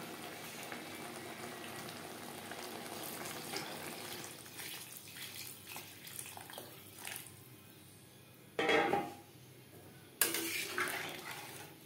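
Water is poured into a pan of potatoes fried with spices, with soft bubbling and utensil clinks, then two short loud pouring gushes, the second followed by a hissing simmer.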